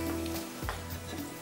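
Chopped onion frying in butter with cumin and garlic in a pan for fried mash daal, a steady, close hiss of sizzling oil that runs continuously throughout with no voices.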